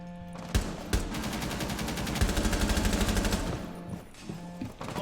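Sustained automatic gunfire in Rainbow Six Siege: a few sharp separate shots, then a dense rapid burst of loud close-range fire that tails off, with no talking.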